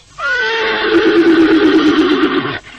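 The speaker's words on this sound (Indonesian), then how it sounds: "Kebo Ijo memandangi kuda yang ditunggangi Senopati Diposari yang kemudian lenyap di balik tikungan" A horse whinnies loudly and close, a long rising-then-falling neigh lasting over two seconds, alone without speech, as its rider departs.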